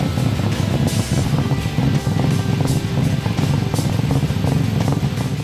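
A Nissan R32 GT-R drag car with a hush-hush engine spec, HKS T62R turbo and Trust drag intercooler, revving hard past 10,000 RPM, heard as a loud, continuous rough engine roar with wind buffeting and no talking.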